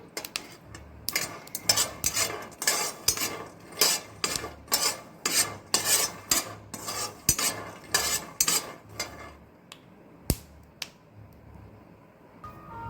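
Peanuts roasting in a pan as a spoon stirs them, giving a quick, regular series of dry scraping and rattling strokes, close and crisp, that thin out toward the end.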